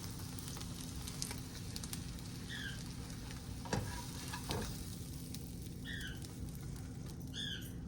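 Eggs sizzle in a frying pan on a stove burner, a soft, steady crackle close by with faint chirping sounds in the background and no talking.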